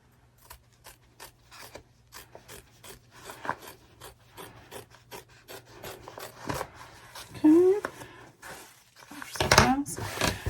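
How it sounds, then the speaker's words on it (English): Scissors trim fabric for an in-the-hoop embroidered zipper bag: a series of separate close snips and rustles, growing louder and busier toward the end, with a steady low hum beneath and a voice speaking partway through. "I'm going to go ahead and trim it."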